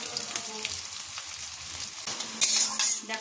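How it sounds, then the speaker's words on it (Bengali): Chopped onions dropped into hot oil in a wok for a mince dish, a crackling sizzle with scraping stirs and a couple of louder bursts of spattering near the end. "এই যে কড়াই তেল দিয়ে দিয়েছি, এবার দিয়ে দেবো পেঁয়াজ।"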